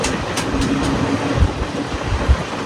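A Sabarimala special train runs on its rails through Telangana as it nears Thandur station, giving a steady close rumble with a few heavier wheel thumps and no voices.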